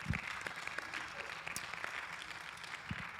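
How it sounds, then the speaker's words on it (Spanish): A church congregation claps for the Lord, a faint, dense and steady patter of many hands that continues evenly for a few seconds. "Denle un aplauso fuerte al Señor."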